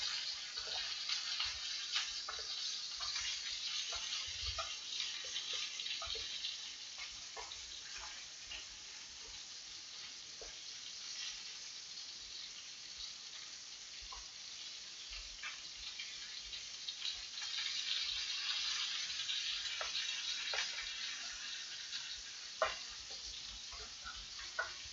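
Vegetables sizzle and spit in a hot pan after a flip, a steady bright crackle with scattered small pops and ticks running alone and close throughout.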